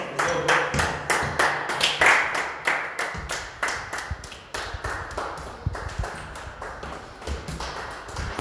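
Sharp hand claps from a small group at a leg-day gym workout, sounding as irregular, fairly close taps, with a coach's encouraging voice calling out between them.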